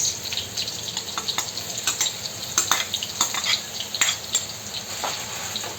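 Garlic sizzling and browning in a hot pan, a steady crackling fry with frequent sharp pops and light stirring scrapes, close and moderately quiet, no voices.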